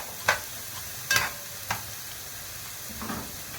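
Garlic and onion stirred in a pan for a potato tray bake, with sharp scraping sweeps breaking a faint background sizzle; four distinct stirring strokes, close and fairly quiet, no voices.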